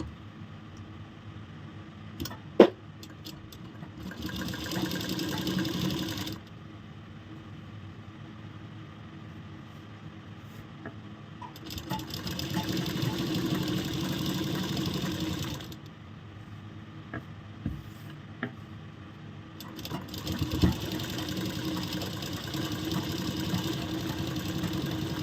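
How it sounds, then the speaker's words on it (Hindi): Sewing machine stitching a ladies' shirt, three bursts of steady mechanical whirring of several seconds each, separated by quieter pauses with small clicks and handling noises. "अभी हम ऊपर से भी एक सिलाई लगाएंगे।"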